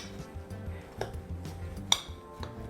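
A metal spoon clinks and scrapes against a dish while mashing cornbread, several sharp taps scattered over a soft low background, close and moderately quiet.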